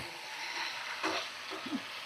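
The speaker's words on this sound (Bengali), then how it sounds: "আর 2 থেকে 3 মিনিট এভাবে মানে চিকেন কষিয়ে নিয়েছি" Chicken sizzles in ghee in a pan with a quiet, steady hiss, broken by a couple of soft stirring scrapes and a light knock, close and low in level.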